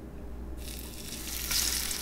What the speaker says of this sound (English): Once you have your patent-pending hot-ass pan ready to go with the homemade hot-ass oil, we're going to go ahead and dunk the pieces right here into the pan